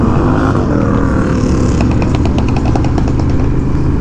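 A loud Honda Rebel motorcycle exhaust rumbles close by at Bike Week, then breaks into a rapid burst of crackling pops as the engine revs.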